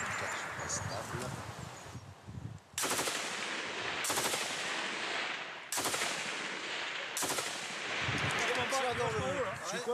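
A 7.62 machine gun fires in long, loud bursts outdoors during military training, with sustained rapid volleys separated by brief pauses and voices heard at the start.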